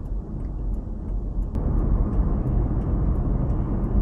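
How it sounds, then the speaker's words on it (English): Continuous low road rumble from a car driving with a worn CV joint, a steady droning hum with a faint tick near the middle, no voices. "Definitely can hear that CV making some noise."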